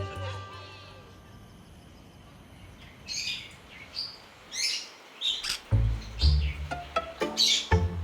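Parrots kept as pets squawk and chirp in short, bright bursts, several calls in quick succession that grow louder toward the end over a low background hum.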